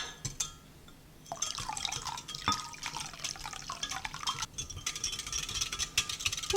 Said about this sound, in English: Now the directions call for a full cup of cold water.